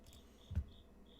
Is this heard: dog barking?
no